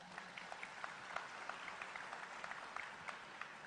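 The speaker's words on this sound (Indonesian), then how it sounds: "Kita beri aplaus yang meriah dulu buat panitia." An audience applauding the organizing committee at a religious lecture event, a steady patter of many hands clapping at moderate distance, fairly faint and without talk.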